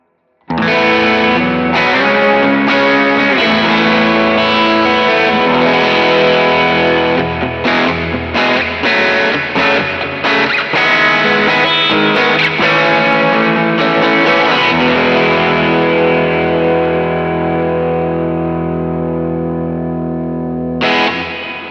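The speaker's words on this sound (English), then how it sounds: "And then in this snapshot, I have a higher gain setting." A heavily overdriven electric guitar through an HX Stomp on a high-gain setting plays a long run of distorted chords and riffs, thick and saturated, ringing out before a final strum.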